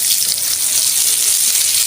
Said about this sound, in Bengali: আমি এইভাবে ভেজে নিয়েছি,